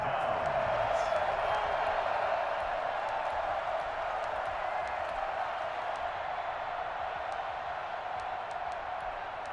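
Stadium crowd cheering in Madden NFL 21 football game, a broad steady roar of many voices with scattered claps and whoops, slowly easing in level throughout.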